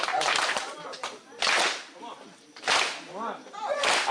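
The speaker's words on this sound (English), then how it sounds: "let me get the claps" Hand claps keeping time for a rap beat: three sharp, loud claps spaced about a second and a half apart, with voices talking between them.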